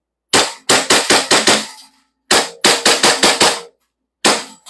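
An airsoft pistol fires single shots in quick sharp cracks, loud and close: a run of five, a pause, a run of six, then one more shot, with no talking.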